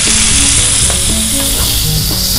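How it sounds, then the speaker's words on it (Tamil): Chicken pieces fry over low heat in a pan, giving a loud, steady sizzle with occasional crackles and faint stirring, with no voices. "நல்லா சிக்கனை வந்து ஃப்ரை பண்ணி எடுத்துக்கோங்க"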